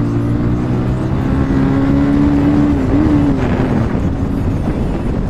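Two Bajaj Pulsar 220F motorcycles ride side by side on an empty road, their engines giving a loud, steady droning hum with a slight rise and dip in pitch midway, mixed with rushing wind.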